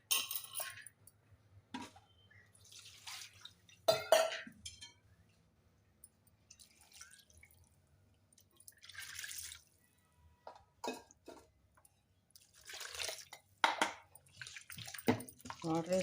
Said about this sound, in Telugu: దీంట్లో వాటర్ వేసేసుకున్నాము.